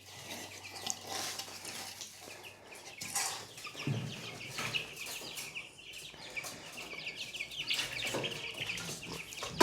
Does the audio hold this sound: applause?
no